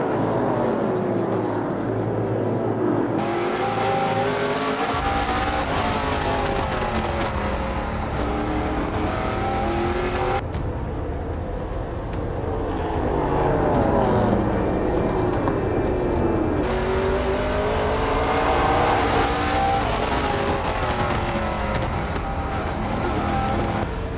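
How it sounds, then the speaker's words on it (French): NASCAR race cars roar around the Autodrome Chaudière track during a 300-lap race, a dense, loud, continuous engine drone with cars repeatedly sweeping past and shifting pitch, under constant crowd and track ambience. "C'est parti pour les 300 tours NASCAR Pinty de l'Autodrome Chaudière"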